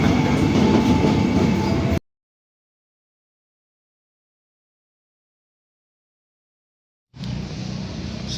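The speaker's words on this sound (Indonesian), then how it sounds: "Komuter Line Yogyakarta." A Commuter Line train at Yogyakarta station, a loud rumbling of rolling railcars for two seconds, then an abrupt silence, followed by the rumble returning at a lower level.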